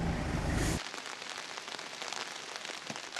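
Steady rain hisses down beside a Bhutan mountain road during a landslide, dense and close, with a heavier low rumbling burst at the start before settling into a constant patter.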